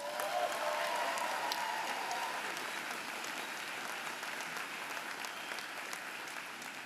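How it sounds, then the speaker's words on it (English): Steady applause from a graduate commencement audience, a dense wash of many hands clapping that holds evenly and stays fairly quiet and distant throughout. "Let's give another round of applause for Vanessa Ford."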